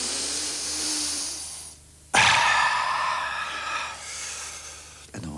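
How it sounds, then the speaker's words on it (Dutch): A deep, drawn-out breath sucked in through the nose by a presenter on a Dutch children's programme, a loud rushing inhale of a few seconds standing alone, followed by a brief second sniff near the end. "Je kan het heel diep opsnuiven"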